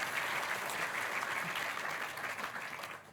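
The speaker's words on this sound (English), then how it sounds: "can we give our judges a preemptive, encouraging round of applause, please, as well?" An audience at a science communication competition final gives a round of applause for the judges, a steady dense crowd clapping heard from a distance that fades slightly toward the end.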